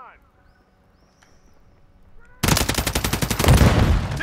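Rapid automatic gunfire in Call of Duty Modern Warfare 3, a Domination match on the Afghan map, bursting in loud and close after a quiet stretch of faint radio chatter and continuing as a fast rattling volley.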